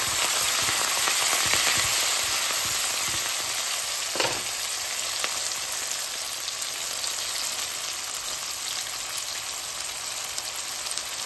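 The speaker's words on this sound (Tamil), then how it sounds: "இப்போ வெங்காயம் வதங்க பூண்டு வதங்கட்டும்" Onion and garlic fry in a pan with a constant dense sizzle, close and steady throughout, with a faint tap or two of a utensil and no voices.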